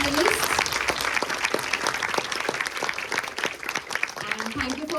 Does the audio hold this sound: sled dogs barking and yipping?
no